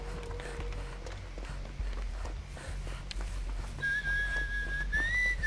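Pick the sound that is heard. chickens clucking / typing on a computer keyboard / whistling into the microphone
whistling into the microphone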